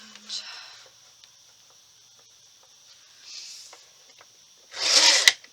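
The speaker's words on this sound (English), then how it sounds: "cut this branding strip off" A paper trimmer slices a branding strip off scrapbook paper, heard as a quiet sliding cut near the start, a softer pass mid-clip and a louder, nearby rasping cut at the end, with faint background hiss between.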